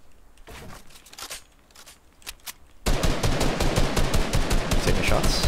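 Video game gunfire, a few scattered sharp shots followed by a sudden dense burst of rapid automatic fire that stays loud to the end, with brief voices in the background.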